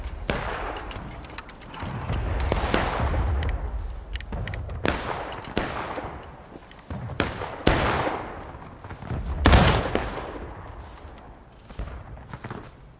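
Musket volleys crack out in the Civil War video game War of Rights, with repeated loud, overlapping bursts of gunfire across the battlefield, some near and sharp, others rolling and more distant.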